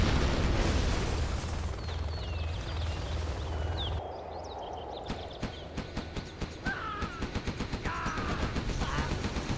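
Gatling tanks in C&C Generals Zero Hour firing on workers: fast rattling bursts of rapid gunfire in the second half, preceded by a busy rumble of units and explosions, with short bleeping game effects.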